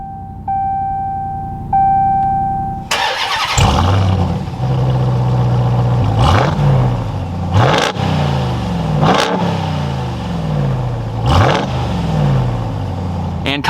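A 2021 RAM 1500 TRX pickup's engine cranks and fires up after a few faint electronic chimes, then revs loudly several times in sharp bursts before settling between blips, close and without talk.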